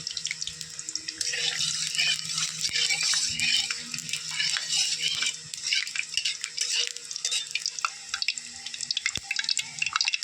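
Two broken dry red chillies go into hot oil in a kadai for tempering, giving a steady, close hiss of sizzling with no talking.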